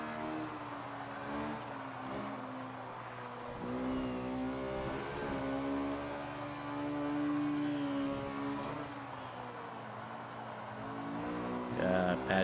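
A 1997 Honda Civic Type R, front-wheel drive, running a lap in Forza 5, its engine droning and rising through the revs with gear changes and brief lifts, loud and steady.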